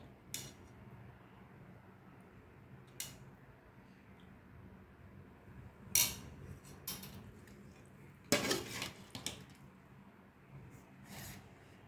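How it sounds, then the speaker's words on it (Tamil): Sambar is ladled over a plate of rice with scattered metal clinks and taps of ladle against plate, a few sharper knocks near the end, over a low steady room hum. "சாம்பார் ஊற்றிக்கலாம்"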